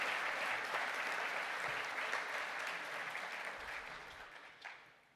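Broad, steady applause from an audience at a graduation ceremony for Master of Science in Applied Marine Conservation graduates, holding strong for several seconds before tapering off.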